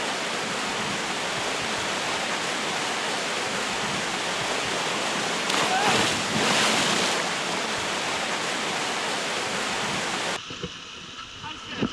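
A 6-meter waterfall in Nanyo, Ehime, Japan, a steady roaring rush of falling water, loud and broadband, swelling briefly midway before the sound cuts off near the end.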